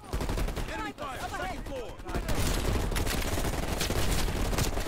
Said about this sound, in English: Enemy fire, second floor.